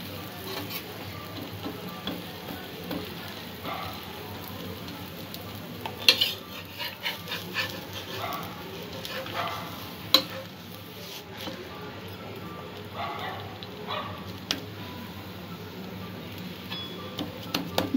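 An oats and egg omelette with bread fries in a pan, giving a steady close sizzle with scattered scrapes and clicks of a utensil throughout, and no talking.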